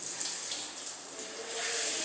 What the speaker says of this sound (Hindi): ये हैंड शावर इतना बढ़िया चल रहा है